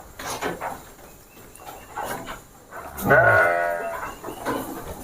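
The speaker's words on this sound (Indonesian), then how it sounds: "Ini domba Dorper nih" A Dorper sheep on a farm lets out one loud, close bleat in the middle, with quieter shuffling and a few faint animal sounds around it and no talking.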